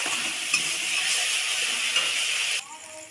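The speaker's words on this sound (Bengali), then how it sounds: "আর একটু ভালো করে কষিয়ে নেব মশলাটা" Spices frying with eggplant and potatoes in a pan give a steady, close sizzle and hiss that drops away abruptly near the end, with faint scraping of stirring.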